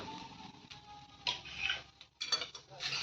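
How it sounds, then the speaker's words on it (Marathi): A utensil stirring modak dough in a pan, soft irregular scraping and tapping close by, quiet with short bursts. "एकसारखं हलवत राहायचं नाहीतर हे करपतं"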